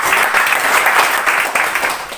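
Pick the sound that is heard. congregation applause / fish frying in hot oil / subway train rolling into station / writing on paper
congregation applause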